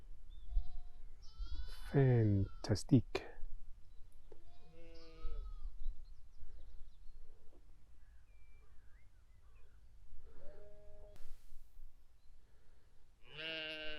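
Sheep bleating in a grassy field during a cross-country countryside hike near Headcorn, a few distinct calls at moderate distance, separated by quiet gaps, with a person briefly speaking.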